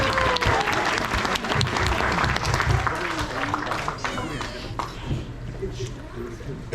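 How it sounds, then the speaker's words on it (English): Loud, dense audience applause fills the hall at a high school end-of-season sports banquet honoring the boys' varsity team, steady for several seconds with scattered cheers and voices before easing slightly. "Let's give them a round of applause."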